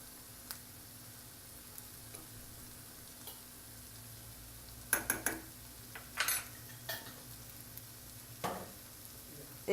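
Spices such as chili powder and coriander powder sauté in a pan for chana masala, a quiet low sizzle with scattered clinks and scrapes of a spoon against the pan; no talking.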